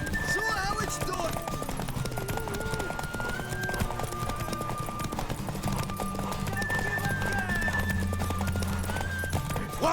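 Horse hooves clip-clop steadily in The Witcher 3, with occasional whinnies and neighs, all under game dialogue and a music score.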